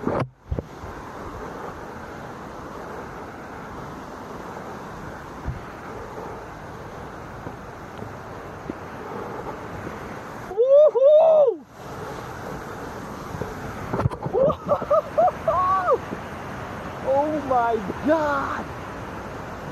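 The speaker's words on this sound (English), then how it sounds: "is one of the most beautiful waterfalls I've ever seen in my entire life" Toketee Falls waterfall gives a continuous broadband roar of falling water mixed with wind noise, with a person talking over it now and then.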